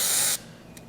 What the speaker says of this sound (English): we'll go ahead and spray the roller shaft